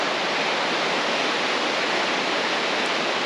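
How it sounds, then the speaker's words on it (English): A river in Rocky Mountain National Park rushes past in a dense, steady white-noise roar, loud and close with no voices over it. "There's the river"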